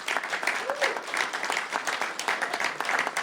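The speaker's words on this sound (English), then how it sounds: "we really need to give them another round of applause" Audience applauding a panel at a Baystate Health faith event: steady, moderately distant clapping that sustains throughout, with faint voices beneath.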